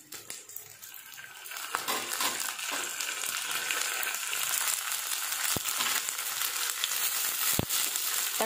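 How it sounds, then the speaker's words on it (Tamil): Onion, green chilli and curry leaves sautéing in a pan for a mango-based fish curry, tomato being added; a steady close sizzle with scattered scraping clicks throughout, no talk. "இப்போ வெங்காயம், பச்சை மிளகாய், கருவேப்பிலை நல்லா வதங்கிடுச்சு, இப்போ தக்காளி வந்து ஆட் பண்ணிக்கலாம்."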